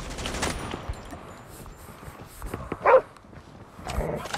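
Dog attack in the mobile shooter game Call of Duty Mobile: a short, sharp bark-like burst near the middle rises out of scattered gunfire and game noise.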